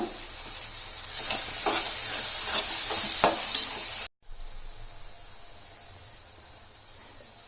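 Chillies and pounded masala are stirred and fried in a pan for mango rice, hissing and sizzling with scraping spoon strokes, then a brief cut leads to a quieter, gentler sizzle.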